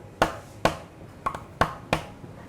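Percussive hits on an acoustic guitar body, five sharp close knocks in an irregular rhythm, each with a short ringing decay, heard alone.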